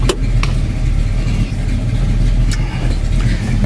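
A Ford Mercury Cougar XR7 coupe's Cobra Jet V8 with a hot cam idles loudly and steadily nearby, a deep rumbling exhaust with an uneven, loping rhythm and a few small clicks.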